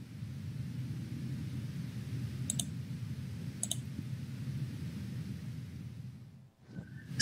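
A computer mouse gives two crisp, quiet clicks a second apart over a low steady hum of room or fan noise, followed by a faint sliding rustle near the end.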